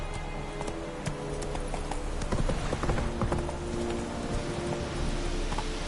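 Hooves of Roach, the horse in The Witcher 3 video game, clip-clop in a steady, continuous rhythm close by, with no talk over them.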